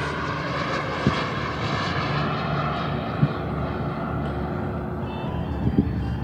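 A radio-controlled model Avro Vulcan delta-wing jet bomber flies past with a steady, loud jet roar that slowly fades and changes pitch as it moves away. Faint clicks and background noise sit underneath.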